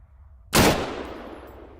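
Single loud AUG rifle shot in Arma 3, a sharp close crack after a quiet moment, followed by a long fading echoing tail.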